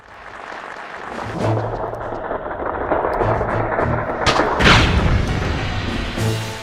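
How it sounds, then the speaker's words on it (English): Explosive crossbow ammo detonating in the Tomb Raider 4 video game, a loud sustained rumbling blast with several heavy booms rolling through a noisy wash of debris. "we're going to select our explosive ammo just this one time because we need a wide radius explosion"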